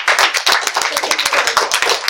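A classroom of students clapping fast and loud for a classmate, rapid dense applause that keeps up its pace through the whole short burst.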